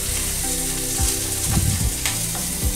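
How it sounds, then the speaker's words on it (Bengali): Chopped onion and ginger fry in a pan with a steady, close sizzle, broken by a few scraping stirs of a spoon; no one speaks. "দিয়ে আমি মিনিট খানে এটাকে একটু ফ্রাই করে নেব।"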